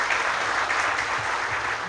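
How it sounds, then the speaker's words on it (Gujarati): Warm applause from an audience welcoming a guest speaker at a talk, a steady, even patter of many hands clapping throughout. "એમને જોરદાર તાળીથી વધાવીએ"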